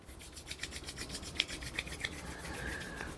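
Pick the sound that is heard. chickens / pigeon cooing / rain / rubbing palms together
rubbing palms together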